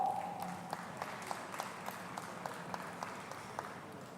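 Quiet, distant applause at a Nigeria Fintech Week panel, with individual claps spaced out in a sparse rhythm over a low room background.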